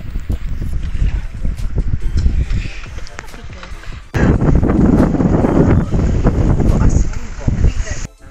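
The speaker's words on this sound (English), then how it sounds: "We're just sailing past Bundelbar Island, and we're nice and close" Sailing boat under way past an island on a windy day, with steady wind rumble and water rush throughout, gusting louder in the second half, and a voice talking over it.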